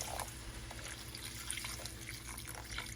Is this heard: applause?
no